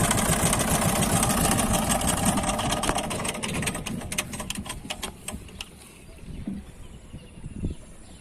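A small river boat's engine chugs with a rapid rhythmic clatter, loud and near at first, then fading and thinning out toward the end. No one speaks.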